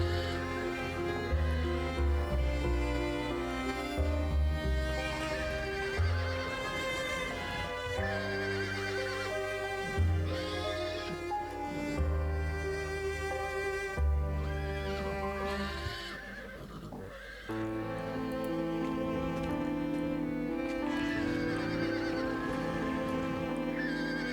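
Nervous black horses neigh and whinny repeatedly in the video game Dracula Origin, with hoof clops, over a continuous musical score.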